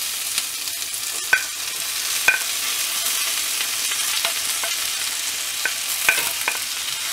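Onion and eggplant frying in hot oil for an eggplant curry, with a steady sizzle throughout and a handful of sharp scraping stirs from a spatula against the pan.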